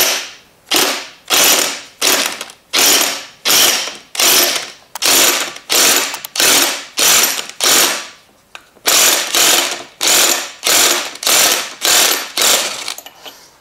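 A ratchet wrench works on a GY6 scooter starter clutch nut, giving repeated loud bursts of rapid clicking, about twenty strokes in steady rhythm with short pauses between, close up and alone.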